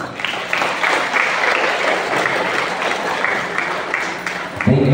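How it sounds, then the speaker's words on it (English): An elementary school graduation audience in Bacolod City breaks into sustained applause, a broad, even wash of many hands clapping that holds steady before a brief voice enters at the very end. "let's give them a round of applause."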